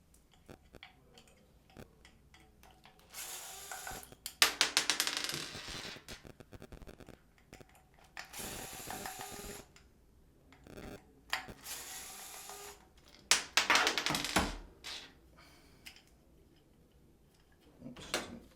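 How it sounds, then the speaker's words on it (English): Four screws being removed from a machine casing during routine maintenance, with intermittent ticking, ratcheting clicks and bursts of rattling metal handling spread across the clip, close and moderately loud. "we're actually going to remove these 4 screws"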